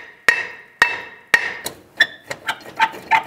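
Metal-on-metal hammer blows striking a 2001-2008 Chevy Trailblazer parking brake shoe assembly from the back side, three sharp loud hits followed by several quicker, lighter taps, close up with no talking.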